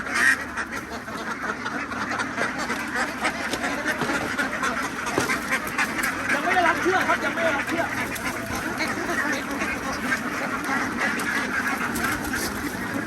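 Flock of young laying ducks quacking steadily and in overlapping bursts during delivery at Bang Saphan, Prachuap Khiri Khan, with someone talking over the close, continuous chatter.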